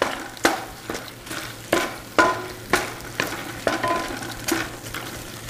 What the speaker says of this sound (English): a little bit more of this ginger. Saute, baby, saute.